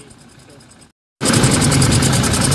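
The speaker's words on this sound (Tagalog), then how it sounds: "napaandar namin yung sasakyan, umandar na, pero pakinggan natin guys, sobrang ingay ng engine" Noisy 2GD engine of an automatic Toyota Fortuner with an electrical fault running, a loud, dense, steady roar that drops out briefly before surging back at full strength.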